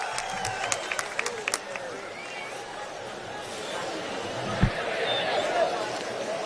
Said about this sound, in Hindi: जोरदार तालियों से आप उनका इस्तकबाल करें।